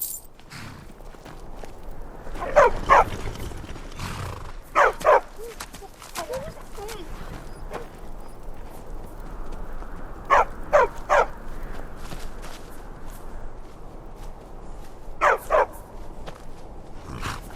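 Dogs barking in the video game Skyrim, handled for the Jarl: short clustered bursts of barks repeating every few seconds over a quiet ambient bed, with occasional speech.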